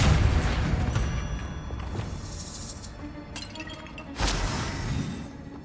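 Depulso spell in Hogwarts Legacy, cast near an altar piled with bones: a deep booming impact followed by shattering, clinking debris, then a second burst of crashing near the end.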